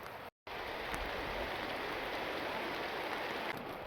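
Steady rain hisses down over a forest campsite in Uttarakhand, a continuous dense patter close by and unbroken apart from one brief dropout near the start.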